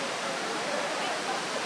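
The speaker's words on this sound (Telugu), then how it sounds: "ఆ వాటర్ ఫాల్ దిగేదంతా కాలువ కింద రూపంలో కిందకి వెళ్ళిపోతూ ఉంటుంది." A waterfall at Cheekudhara pours steadily into a channel below, producing a continuous broadband rushing hiss with no breaks, even and fairly loud.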